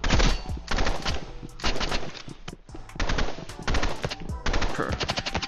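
Rapid automatic gunfire from the Roblox shooter game Rivals, played on mobile, comes in loud repeated bursts with short gaps between them and no talking.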